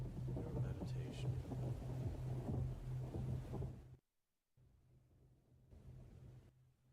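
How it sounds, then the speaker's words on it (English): Distant thunder rolls through a storm as a continuous low rumble with wind, steady and fairly loud, dropping out briefly midway before resuming more faintly beneath a constant low hum. "imagine yourself being in a thunderstorm"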